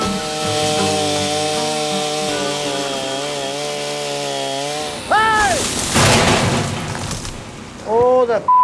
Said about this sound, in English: Don't put your arm over the top of that chainsaw